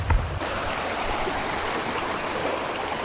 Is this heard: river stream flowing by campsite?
yes